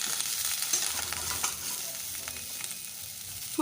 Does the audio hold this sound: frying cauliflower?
yes